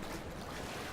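Water and waves in the exploration game Dear Esther make a steady, dense wash of surf and wind, with no voices.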